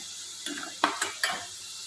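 Sliced potatoes frying in hot oil in a home kitchen pan, a soft steady sizzle with a few quick scraping stirs of a spatula against the pan.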